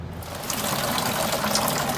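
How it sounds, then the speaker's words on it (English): Steady, heavy rain patters and hisses loudly and close by aboard a catamaran, a dense continuous wash of droplets with no voices. "It's raining pretty good."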